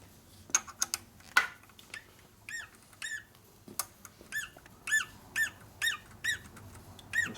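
A rebuilt 1972 Harley FLH 98ci shovelhead stroker motor squeaks as it is turned by hand, giving a series of sharp, close squeals that fall into a regular rhythm, with a few clicks between them.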